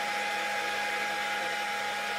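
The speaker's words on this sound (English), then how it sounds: "I'm using the hair dryer to evaporate the water" A hair dryer blows steadily and loudly without pause while drying water off a 12-inch SkyWatcher 300P Flextube Dobsonian telescope mirror, a constant whooshing motor hum with no voices.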